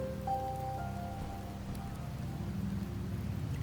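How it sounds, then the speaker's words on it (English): Steady rain falls in Wuthering Waves, a continuous dense patter on surfaces with a low rumbling wash underneath, heard alone with no talking. "The rains in Septimont never seem eager to leave this season."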